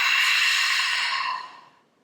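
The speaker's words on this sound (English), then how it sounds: "The inhale through the nose, sending the breath into the rib cage." A steady breath is drawn in through the nose into the rib cage, a close, airy hiss lasting over a second before it fades to silence.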